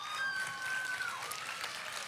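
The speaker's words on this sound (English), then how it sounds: "Give one more round of applause to these incredible musicians on stage" Audience applause for musicians on stage at a concert, a steady dense wash of clapping throughout, moderately loud and continuous with a faint tonal whistle early on.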